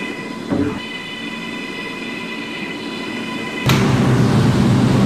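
Roblox simulation of an R211 M subway train on the D/M/S lines running steadily, with a continuous rumble and tonal hum, then a louder surge of rolling noise near the end.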